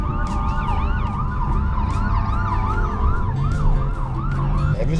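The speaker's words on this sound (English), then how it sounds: "there's an ambulance right here." An ambulance siren wails on a highway, its rising and falling whoop repeating steadily over the rumble of passing road traffic, loud and fairly close throughout.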